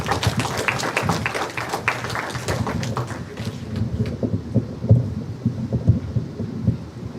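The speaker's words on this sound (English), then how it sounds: "Please give them another round of applause." An audience at a police training session on ending gender-based violence gives a round of applause, a thick, rain-like patter of clapping that stays strong and then gradually thins out toward the end.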